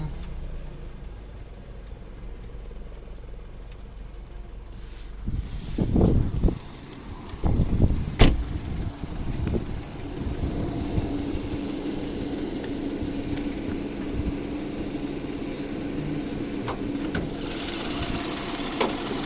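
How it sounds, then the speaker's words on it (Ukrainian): A 2013 BMW X3 (F25) 28i xDrive with a 2.0 Twin Power Turbo petrol engine idles steadily with a low, even hum, climate control off, after a brief burst of rustling and knocks partway through. "виключу клімат, щоб краще було чути, як працює двигун"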